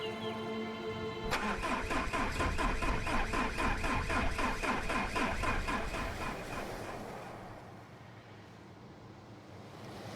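A car engine in the video game Far From Noise cranks and catches, then idles with a steady rhythmic chug before fading into a softer rumble.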